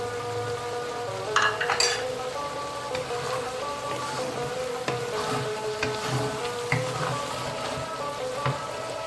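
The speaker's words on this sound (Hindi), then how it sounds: "ये 3 अदद हरी मिर्चें थी जो मैंने काट ली हैं और इसमें डाल रही हूँ।" Chopped green chilies drop into a hot pan in a home kitchen, setting off a steady crackling sizzle of frying with a few sharper spits and light utensil clinks, heard alone and close.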